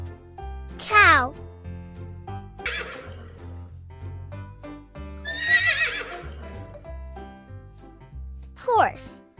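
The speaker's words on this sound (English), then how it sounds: "Horse." A horse neighs in a farm-animal setting, with two loud, descending whinnies about eight seconds apart and softer animal calls between them, all over a steady background of music.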